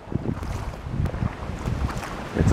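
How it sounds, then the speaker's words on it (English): Wind buffeting and rumbling against the microphone in uneven gusts, with a faint watery wash outdoors behind it. "Although it is windy here"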